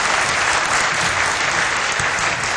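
Warm applause from a university audience greets Park Geun-hye, vice president, arriving for a special lecture at Woosuk University; dense, steady clapping fills the room on its own for a few seconds.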